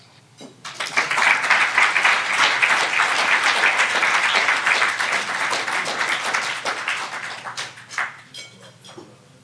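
Audience applause at a business awards luncheon, clapping that swells quickly from silence into a full, sustained round in a banquet room, then gradually thins and fades out.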